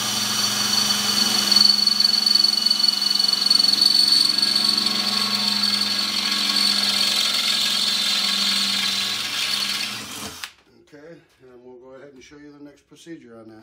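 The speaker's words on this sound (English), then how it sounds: "now we got our holes drilled in there" A power drill bores holes into the casing of a Honda EU3000is generator, whining steadily and loudly for about ten seconds before cutting off abruptly, after which someone talks.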